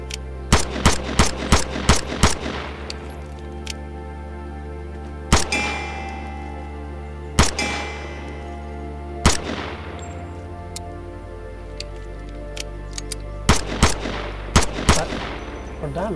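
Gunfire in the video game Vigor, a rapid burst of loud close shots at the start, then single and paired shots spaced a few seconds apart and another quick burst near the end, with no talk.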